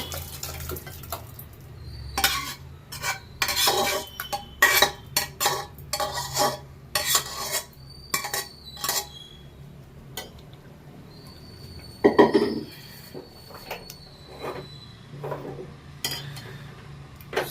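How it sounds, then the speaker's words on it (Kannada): Cooked dal is mashed and scraped into a vessel with a masher and metal utensils, giving a run of irregular clanks, knocks and wet squelches in bursts, close by, with no talking. "ಇದನ್ನ ಸ್ಮ್ಯಾಶರಲ್ಲಿ ಸ್ಮ್ಯಾಶ್ ಮಾಡ್ಕೊಂಡ್ಬಿಡೋಣ"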